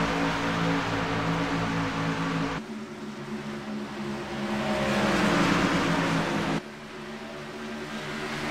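Race car engine roaring hard under acceleration out of a corner, loud and continuous with steady harmonic drone, shifting pitch mid-way, no voices over it.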